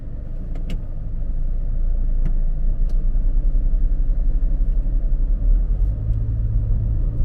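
A car drives straight along a four-lane road toward a market in Chaiyaphum, Thailand, giving a steady, loud low rumble of engine and road noise for the whole stretch, with a few faint clicks and no talking.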